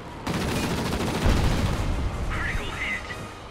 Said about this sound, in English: Notice the guns do have a really nice long reheat time like that.